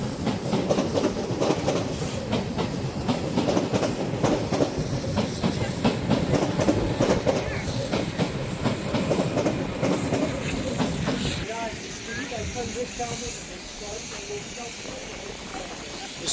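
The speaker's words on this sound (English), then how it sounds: "The train is coming in." A train pulls into Zwolle station in the Netherlands, with a steady rumbling, hissing roll that fades near the end, leaving quieter station ambience and faint chirps.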